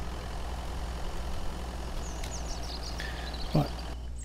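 A vehicle engine idles in the survival game Mist Survival, a steady low rumble running throughout with faint higher chirps and a brief knock near the end.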